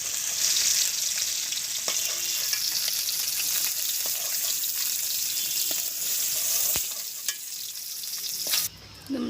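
Fish sizzling and frying in a pan in a village kitchen, a steady loud crackle with occasional stirring scrapes and clinks, ending with a brief drop as the pan is moved.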